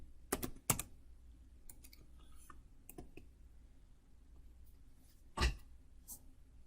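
A few scattered keystrokes on a computer keyboard enter the apt update command in an Ubuntu 18.04 LXD container, ending with one sharper keypress. The clicks are close and crisp, with quiet pauses between them.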